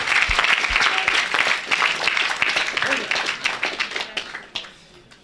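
A church audience at an evangelistic meeting breaks into loud, sustained applause and cheering for Jesus Christ, dense clapping that stays strong for several seconds before thinning out toward the end.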